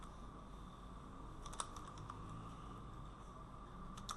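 Keys tapped on a computer keyboard while a database record is entered, a quiet steady patter with a few sharper clusters of clicks over a faint constant background hum.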